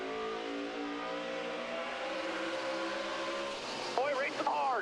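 NASCAR stock cars accelerate hard at Richmond in the 2010 Crown Royal 400, a steady roaring engine drone with rising harmonic whine, under commentators' talk, and a sharp pitch-sweeping rev near the end as a car rockets off the second turn.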